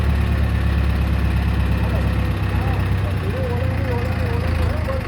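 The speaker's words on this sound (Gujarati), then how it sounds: "જો થોડી મોટી ક્રેન છે" Large crane engine loading heavy sacks onto a tractor at a mill, a loud steady low diesel drone running throughout, with someone talking over it.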